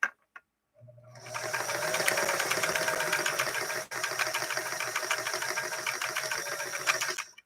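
A Singer 328K sewing machine stitches a fancy stitch pattern, running close and steady with a fast rhythmic mechanical chatter for several seconds, briefly pausing once, with no talking.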